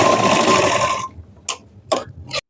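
Close sewing machine stitching a double cut work blouse from shoulder to side seam: a loud second of steady whirring, then it stops and three short separate bursts of stitching follow.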